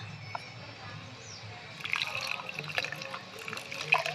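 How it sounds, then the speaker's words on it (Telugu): Water is poured into churned buttermilk to bring up the butter, a short, faint trickle and splash that grows a little louder toward the end, with small drips and clinks. "తర్వాత నీళ్లు పోయాలి"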